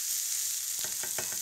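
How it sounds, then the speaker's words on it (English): Chilli, onions and capsicum sizzle in a hot pan while cooking beef taquitos: a steady, bright frying hiss with a few louder crackling bursts near the end, close up and with no talking. "we'll add this. And then we'll toast it off with the onions and capsicum"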